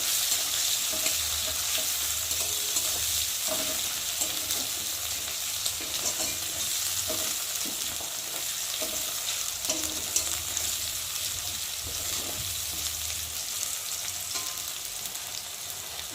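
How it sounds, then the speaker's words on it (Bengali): Chopped onions fry in hot oil in a wok with a dense, continuous sizzle and occasional soft stirring scrapes, even and close throughout. "এখন আমি কুচিয়ে রাখা পেঁয়াজগুলো দিয়ে ভালো করে ভেজে নেব"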